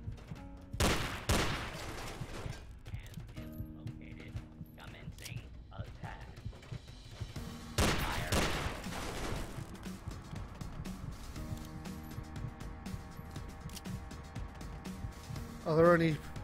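Automated turret gunfire in Fallout 3, sharp bursts of shots crackling out in separate volleys, with a quieter mechanical rattle and scattered footsteps in between.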